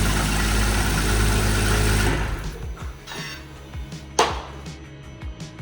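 BMW B58 engine, previously dead after a bent connector pin, cranking and catching into a loud steady run, then settling into a quieter idle with rhythmic ticking and a sharp clunk partway through.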